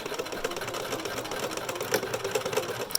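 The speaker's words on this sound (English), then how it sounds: "Put the foot back down, and we're gonna do a few stitches over again." A sewing machine stitching back over elastic on a fabric face mask, a close, rapid, steady mechanical whir of needle strokes running continuously for a few seconds without speech.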